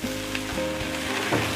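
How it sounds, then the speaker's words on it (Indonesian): Garlic fried shrimp sizzling in a pan while being stirred, a steady close frying hiss with soft scraping of the spoon, no talking. "Diaduk-aduk lagi sampai tercampur rata."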